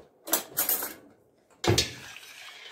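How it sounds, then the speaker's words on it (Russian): Round rice, rinsed, poured into a pot of hot water, giving two short bursts of pattering, clattering grains close by with a quiet pause between them and no talk. "Добавляем 100 грамм риса, желательно круглого,"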